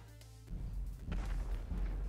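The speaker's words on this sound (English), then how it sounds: "As I loaded, as I zoomed out, just explosions went off" Explosions going off in the video game GTA Online: a sudden loud, rumbling burst of booms that continues as dense, rolling low blasts for about two seconds.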